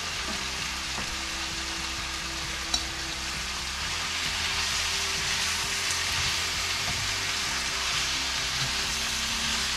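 Sautéed vegetables sizzle and crackle steadily in a hot pan, a dense continuous frying hiss with a brief clink of a utensil near the start.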